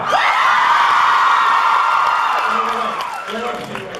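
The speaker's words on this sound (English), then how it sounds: "By a round of applause, who would applaud anything Matt Cohen said?" Fans at a 2014 DallasCon panel erupt in loud whooping, screaming cheers and applause that hold steady, then fade and break into scattered shouts and voices toward the end.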